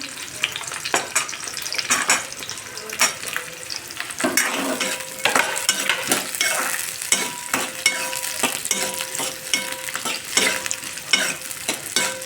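Chilli, ginger and garlic frying with onion in a pan, a steady close sizzle with repeated scraping stirs and utensil clinks, continuous throughout with no voices.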